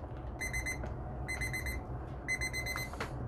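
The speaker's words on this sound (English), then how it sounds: "so that's my timer" A kitchen timer's alarm goes off in three rapid bursts of high electronic beeping, fairly faint over a low background hum, with no speech.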